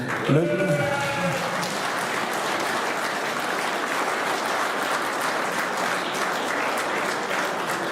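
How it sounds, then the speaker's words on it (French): Sustained applause from a crowd, steady and evenly spread clapping throughout, with a brief voice near the start. "Le Duce, en effet, oui, mérite les applaudissements."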